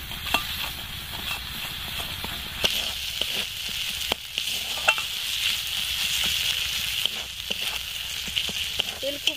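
Spices frying in a pan for Bengali-style doi katla fish curry sizzle steadily up close, with scraping stirs and sharp clicks and clacks of a spoon against the pan breaking through the hiss.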